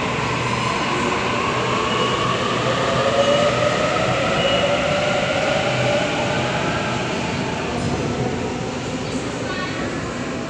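A train pulls away from an underground station platform, a continuous loud rumble of wheels and motors with faint rising whine, heard up close for the whole stretch.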